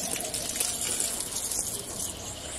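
Water is poured by hand onto garden plants, including a yellow-flowering plant at a home, as a steady, close splashing gush that runs without a break.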